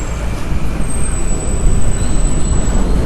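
Loud, steady roadside traffic rumble in London in the morning, with a city bus with air brakes idling nearby and a faint high whine above it. No voices.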